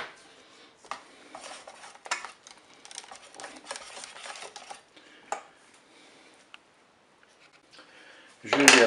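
Cake batter with cherries is stirred in a bowl, giving intermittent scraping and clinking of a utensil against the bowl, with a few louder knocks and a loud clatter at the end.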